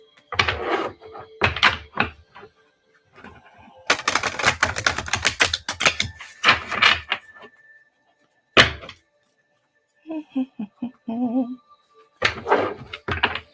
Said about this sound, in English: Let's see if I can shuffle these like a normal deck